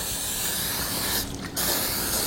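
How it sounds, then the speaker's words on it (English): Cooking spray oil hisses steadily from a can into a pan, one long continuous spray with a brief dip partway through, close and fairly loud with no talking. "I am going to spray these down really well with"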